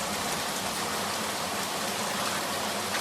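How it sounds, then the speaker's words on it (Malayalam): Rain falls steadily outside during home cooking, making an even, continuous hiss of drops on surfaces. It holds at a moderate level throughout with no talking over it. "മഴൻ്റെ സൗണ്ടാണ് കേട്ടോ കേൾക്കുന്നത്."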